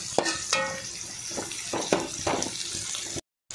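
Chicken fried rice stir-fried roadside style in oil in a pan, with a handful of scraping, sizzling strokes of the spatula spaced irregularly over a steady frying hiss, close and moderately loud, ending in a brief dropout.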